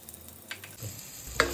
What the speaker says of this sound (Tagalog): Doon sa pinagprituhan ng salmon, maggisa naman tayo ng bawang.